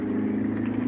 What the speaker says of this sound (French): écoutez un peu voir la voiture qui gronde